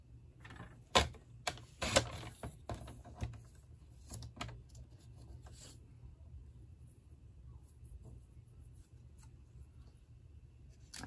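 A paper trimmer slices through a cardstock panel for a black and white tiled card, giving a few sharp crisp cuts and clicks early on, then faint scraping and quiet handling noise.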